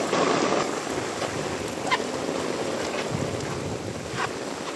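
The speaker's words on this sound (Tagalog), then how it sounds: "Ay, ang lakas ng ulan." Heavy rain pouring in Palayan City, Nueva Ecija, near a solar submersible pump, a loud steady broadband roar of downpour with wind-like rushing and a few brief sharper spikes, no talk.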